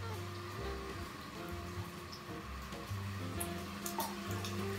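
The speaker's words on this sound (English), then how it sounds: "Stir." Chopped goose pieces being stirred in a pot, a steady sizzle and soft scraping running throughout at close range, with some tonal kitchen hum underneath.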